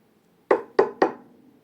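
Three sharp, close knocks on a door in quick succession, evenly spaced and ringing briefly, with quiet before and after.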